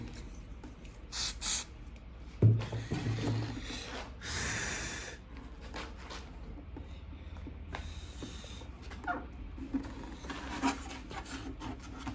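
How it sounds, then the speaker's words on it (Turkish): Two short aerosol spray bursts onto the wood of a juniper bağlama, then a longer steady hiss of spraying, close up over a constant background hum. "Bu şekilde burayı da spreyleyelim."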